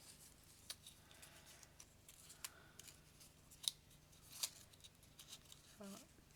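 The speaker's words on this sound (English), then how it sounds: "I'm going to just snip this end off because it's just getting in my way" Scissors snip paper while paper flowers are made from circles: several quiet, sharp, crisp cuts spaced irregularly over a soft room background.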